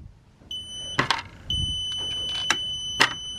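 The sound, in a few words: battery management system (BMS) beeping alarm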